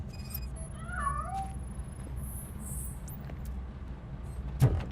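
Cat meowing faintly in the video game RoboCop: Rogue City, a few short rising calls early on over a steady low ambient hum, with a brief thump near the end.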